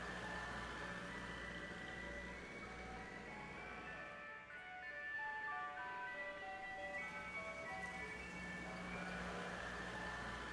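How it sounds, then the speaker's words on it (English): An ice cream truck plays its chiming jingle melody steadily over a low engine rumble, with a brief dip midway before the tune carries on. "I'll bring her back in that ice cream truck."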